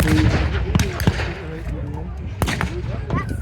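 Booming German anti-tank gunfire at a WW2 re-enactment arena, with a few sharp, loud reports standing out over a continuous rumble of armour and crowd noise.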